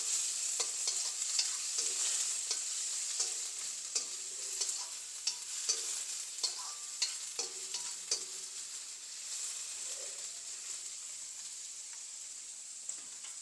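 Shredded cabbage sautéing in a pan for a spicy cabbage curry, a constant soft sizzle punctuated by regular spoon clacks and stirring scrapes against the pan, no voices.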